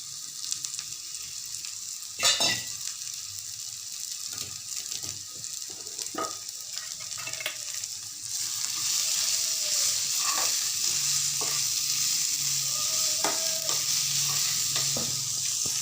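Green peas being sautéed and stirred in a pan, a steady sizzle with scattered scraping clinks of the spoon that grows denser and louder partway through.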